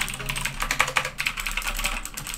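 Typing on a Steelseries Apex 7 mechanical gaming keyboard makes a fast, dense run of close clicky keystrokes with a low hum underneath.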